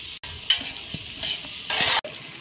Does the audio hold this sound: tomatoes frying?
yes